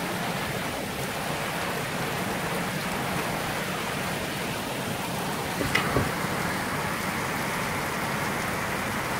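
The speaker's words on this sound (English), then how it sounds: "It's raining almost every day now." Heavy rain pours steadily in a dense, even hiss, with one brief sharp knock partway through.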